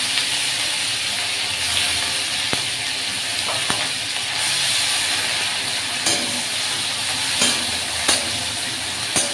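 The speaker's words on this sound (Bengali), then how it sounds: "এবার এর মধ্যে আমি অ্যাড করে দেবো পেঁয়াজের বাটা।" Onion paste hits hot oil already tempered with cumin and dried chillies, giving a steady loud sizzle with occasional stirring clicks and scrapes, no talking.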